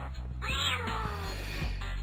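A cat character in a video game meows, one drawn-out, whiny meow heard clearly and close, alone with no talking.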